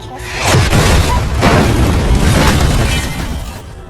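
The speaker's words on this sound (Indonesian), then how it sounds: "satu mobil yang berada di depan mereka meledak karena sebuah serangan dari roket RPG" A loud, booming explosion with rolling, crackling rumble that swells and decays over several seconds, as a car is blown apart by an RPG rocket.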